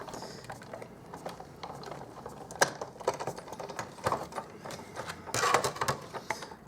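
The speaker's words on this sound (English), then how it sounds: "and I'm just going to crank that through the Big Shot." Cardstock in an embossing folder is cranked through a Big Shot die-cutting machine, producing irregular ratcheting clicks and gear ticks that grow busier toward the end, close and fairly quiet, with no talking.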